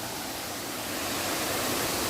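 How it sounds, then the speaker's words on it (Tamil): Kattar waterfall in a forest once roamed by Veerappan pours with a steady, dense roar of falling water, near and constant throughout, with no other sounds. "தண்ணி அப்படியே ஃபால்ஸில் எப்படி கொட்டுது பாருங்க."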